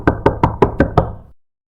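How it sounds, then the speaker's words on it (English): Six sharp, evenly spaced knocks on glass, loud and close, followed by silence. "something knocked on the window."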